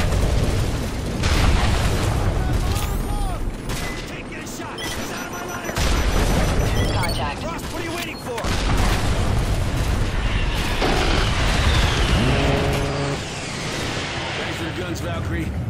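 Heavy explosions from a strike on tanks in Call of Duty: Modern Warfare 3 roll one after another, loud and dense, mixed with battle noise and radio voices talking throughout.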